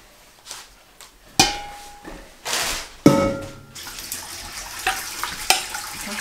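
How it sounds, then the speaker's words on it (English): Hot sweet pickle brine for Appalachian 14-day pickles being poured back over the pickles in a kitchen, heard as several short bursts of splashing liquid broken by clunks and clatters of containers, with quiet gaps between pours. "we're going to bring the mixture to a boil, let it cool slightly, pour it back over just like we did yesterday"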